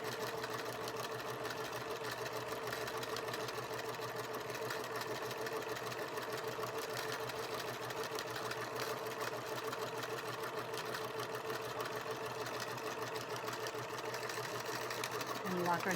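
A sewing machine stitches the seams of a fabric basket, running in a steady continuous whir throughout with a voice talking over it.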